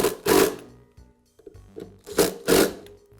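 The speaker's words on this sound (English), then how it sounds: "I'll go ahead and tighten up those 2 screws." Screws being tightened on a DeWALT planer blade holder, heard as a few short close mechanical whirring bursts with gaps between them.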